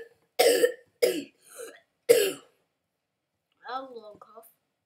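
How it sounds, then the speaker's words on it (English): A string of harsh coughs, three sharp barks in quick succession with a softer one, then a throaty rasp as the fit trails off. "a long cough"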